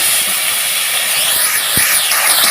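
Cumin seeds and bay leaf frying in hot oil in a pan, giving a steady close broadband sizzle and hiss throughout with a few small pops.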